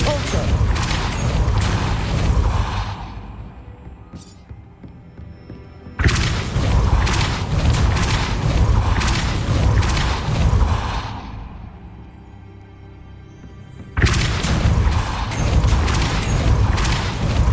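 In the Hogwarts Legacy video game, the Depulso spell fires as heavy, rumbling blasts, each lasting several seconds, with quieter stretches between them.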